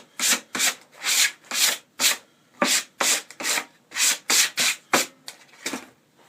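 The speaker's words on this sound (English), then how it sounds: "I run a little light sand over it" Sandpaper rubs back and forth in quick, even strokes over distressed new wood. It makes a steady rhythm of about a dozen close, rasping swipes with no talking.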